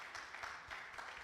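Conference audience applauding a speaker as he walks up, a steady wash of many hands clapping throughout the short stretch, fairly distant and even.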